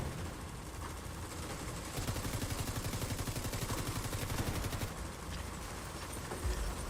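Automated turret in The Division firing rapid, sustained bursts of gunfire, a fast regular rattle that swells in the middle stretch and continues amid dense combat noise.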